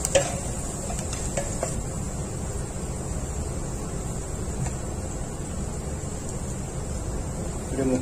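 Turmeric is stirred into curry in a frying pan, with a steady close sizzle and rustling scrape and a few faint knocks against the pan.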